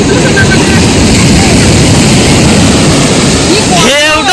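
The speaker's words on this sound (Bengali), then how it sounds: "ঢেউ দারুণ ঢেউ আছে" Sea waves at Puri beach roar in a loud, continuous wash of surf close by, with a voice breaking in near the end.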